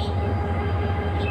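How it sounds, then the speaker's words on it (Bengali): The Kishoreganj Express runs through rural countryside after leaving a station, a steady loud rumble and hum of the moving train heard from on board, with no talk. "আমরা এখন সরাসর স্টেশন থেকে রওনা দিয়েছি"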